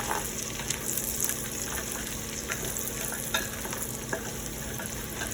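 Carrots sizzle steadily in hot oil for Italian wedding soup while a wooden spoon stirs them, with scattered scraping clicks over a continuous close frying hiss and no talking.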